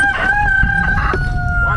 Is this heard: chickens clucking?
yes